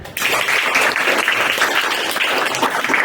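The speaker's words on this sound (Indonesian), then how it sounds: "Ya, tepuk tangan." Schoolchildren clap their hands in a classroom during a morning greeting, a loud, dense burst of clapping that starts abruptly and stays steady throughout.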